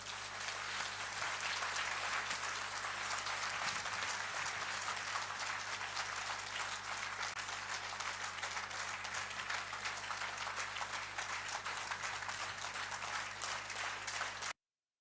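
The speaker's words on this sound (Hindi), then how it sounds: "अपने अनुभव को तालियों से बता सकते हैं।" An audience at a Jain Bhaktamar discussion gathering in Agra breaks into long, sustained applause after a period of silence, a dense, steady roar of clapping that stays even for about fifteen seconds before cutting off abruptly.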